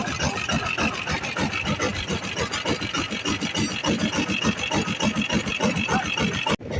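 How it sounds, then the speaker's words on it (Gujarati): An auto rickshaw engine runs steadily close by at a fast, even idle, a continuous rattling putter for several seconds with no talking over it; the engine has been started to lift a farm hydraulic attachment. "તો આપણે હવે હાઇડ્રોલિકને ઉપાડવા માટે રિક્ષો ચાલુ કરીએ છીએ"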